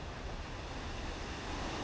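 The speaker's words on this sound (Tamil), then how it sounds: "பெரிய பெரிய அலை அடிக்க தண்ணி" Large ocean waves breaking along a shore in Colombo, a steady broad roar of surf with wind noise, distant and continuous with no distinct crashes.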